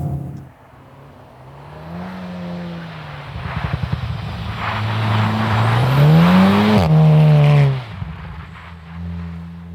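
A Volkswagen Golf R Mark 7.5 drifts on snow and ice, its engine revving up and down loudly with rising and falling pitch, tires hissing and spinning, close and without voices.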